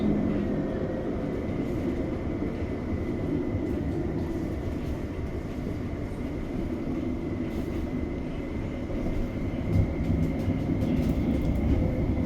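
Canberra light rail tram pulling away from Phillip Avenue stop, heard from inside as a steady, fairly loud rumble and hum of the running car, rising slightly toward the end, with no talk.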